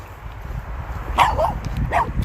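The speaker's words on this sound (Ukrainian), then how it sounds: "О, дивіться, які собаки. Докси." Dachshunds bark outdoors in Ireland, two short sharp barks spaced about a second apart, moderately close over low background rumble and faint ambient noise.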